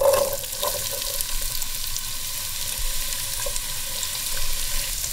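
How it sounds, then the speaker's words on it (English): Chopped onion sautés in a pan for a Persian eggplant stew, giving a steady, close sizzling hiss with faint crackles and a few light stirring scrapes. There is no talk. "saute the onion"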